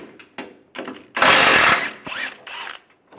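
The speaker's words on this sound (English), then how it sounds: "We're going to remove these two bolts." A ratchet with an 18 mm socket turns a tow hook bolt on a 2007-2013 Chevy Silverado 1500, heard as close, loud clicking bursts with one longer sustained ratcheting run, and no speech.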